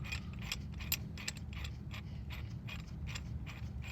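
A tool being twisted to push back the brake caliper piston on a 2018–2022 Honda Accord gives a steady run of soft, regular ratcheting clicks, close, over a low hum.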